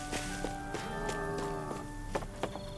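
Cows mooing on a farm in the video game Tales of Arise, several low drawn-out moos over steady ambient game background, with occasional soft footstep-like taps and no talk.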